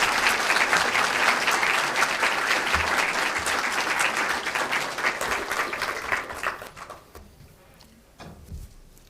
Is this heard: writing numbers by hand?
no